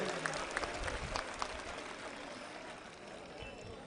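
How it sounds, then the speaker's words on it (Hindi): A crowd at a farmers' support rally in Uttar Pradesh claps, a broadband patter with a few sharper claps early on that settles into steady, moderately loud applause. "ताली बजाकर जोरदार समर्थन दीजिए"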